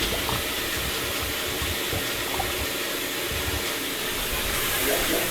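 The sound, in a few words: water running into bathtub, water heater noise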